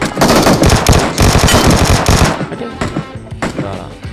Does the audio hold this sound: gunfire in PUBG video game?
yes